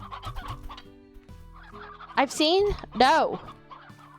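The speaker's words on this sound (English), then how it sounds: "Here's some more chickens." Chickens in the video game Slime Rancher clucking and squawking in short bursts, with two louder rising calls near the end, while a player briefly speaks.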